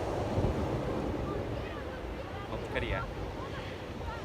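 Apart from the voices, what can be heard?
large ocean waves on a rocky beach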